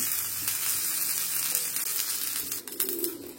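Curry leaves fry in a hot pan with a steady, close hiss and crackle that holds through the whole stretch, dipping briefly near the end before the sizzle resumes.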